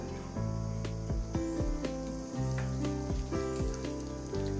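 A steady sizzle of asafoetida, crushed garlic and dried red chillies frying in hot ghee for dal tadka, crackling softly and continuously throughout, with no voices.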